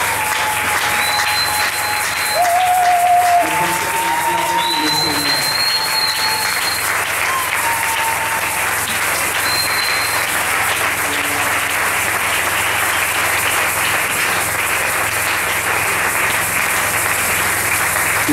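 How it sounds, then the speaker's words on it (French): A church congregation claps and applauds together at a seminar service, sustained and fairly loud throughout, with brief sung or spoken voices near the start. "Est-ce que nous pouvons bien acclamer pour le Seigneur?"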